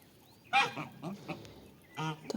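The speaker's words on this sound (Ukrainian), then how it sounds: "Ось такі мої красавчики гусячі" Geese on a farm give a few short honks and nasal calls, close by, with a quiet gap between bursts.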